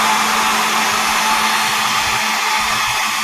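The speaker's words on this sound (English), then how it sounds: "it's probably because of the dryer that Sherry's using" A hair dryer blows continuously during a craft session, a loud, steady whooshing hiss with a constant motor hum, alone and unbroken throughout.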